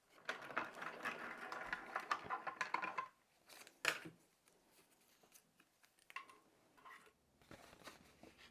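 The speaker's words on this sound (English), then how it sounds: "I'm also going to cut this small rectangle out of white cardstock as well." Scissors cut a small rectangle of white cardstock, starting with a close, dense run of snipping and rustling, then trailing off into a few sparse, quieter snips and paper handling.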